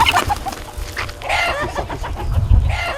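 Chickens cluck and squawk close by in a busy, continuous chorus, with low rumbling noise underneath.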